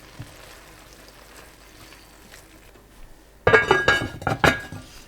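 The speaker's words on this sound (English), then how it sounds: "So we're just going to pop in the last of our broccoli and give it a real good stir up." A pan of one-pot pasta with broccoli is stirred after a quiet simmering stretch, bringing sudden clattering clinks of a utensil against the pot, close and fairly loud for the last couple of seconds.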